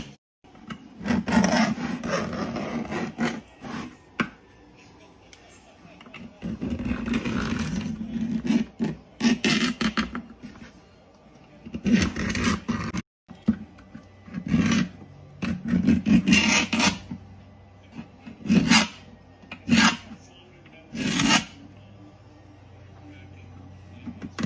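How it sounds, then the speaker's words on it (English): Filler on an armor helmet being sanded and filed by hand, heard as close, scratchy rasping strokes coming in uneven bursts with short pauses between them. "I'm going to go through and sand and clean it up."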